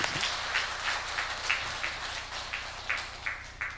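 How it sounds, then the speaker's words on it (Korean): Church congregation at a Sunday worship service claps together, the applause fairly faint and distant with a loose rhythmic pulse running throughout. "여러분이 칠 수 있는 최고의 영광의 박수 하나님께 드리겠습니다."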